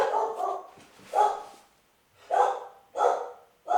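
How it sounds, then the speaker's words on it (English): A dog barks four times in short, spaced bursts, close and fairly loud, with brief pauses between each bark. "And then the dog started barking for some reason."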